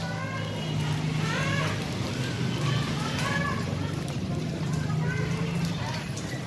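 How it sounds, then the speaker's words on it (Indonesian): Heavy rain with strong gusting wind during a hailstorm and whirlwind in Depok, a continuous loud roar and hiss, with a voice speaking over it. "Hujan angin sangat deras dan kencang pula anginnya."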